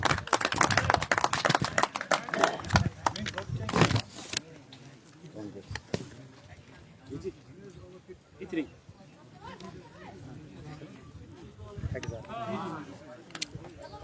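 Crowd clapping for the best bowler at a cricket tournament final prize ceremony, loud dense applause for about four seconds, then fading to scattered claps under someone speaking over a public address.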